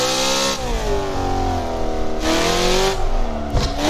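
BMW M3 E92 with a straight-pipe exhaust in the Assetto Corsa racing game, loud and continuous, engine note climbing through the revs with brief shifts and a renewed pull near the end, no talking.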